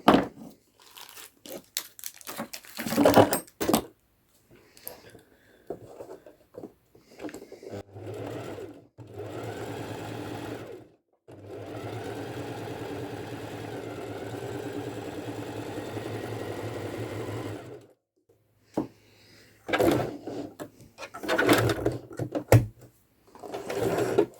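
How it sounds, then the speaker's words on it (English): A sewing machine running a zigzag stitch on fabric, its whirring motor coming in several bursts, one long steady run in the middle, separated by near-silent pauses and small handling noises. "And there we have our first line of zigzag stitch."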